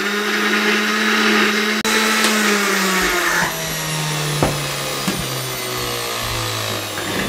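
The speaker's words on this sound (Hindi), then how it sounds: "इसको ऊपर से कवर लगा दें, इसको ग्राइंड कर लें" A blender grinds potatoes and semolina with water, a loud steady motor whine whose pitch sags slightly as the thick mixture loads it, with a sharp click partway through.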